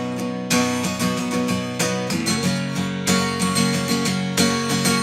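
Fast, loud acoustic guitar strumming of a song, with steady driving down-up strokes ringing out through several chord changes and no voice.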